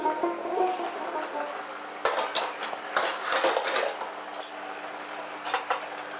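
A cooking-pot lid comes off with several sharp metallic clinks and rattles, close and fairly quiet, amid light kitchen handling noise.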